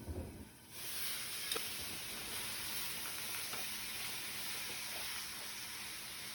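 Sausage and vegetables sear in a hot pan, starting with a few clanks and stirring before a loud, steady sizzle takes over and carries on alone, broken by a couple of small pops.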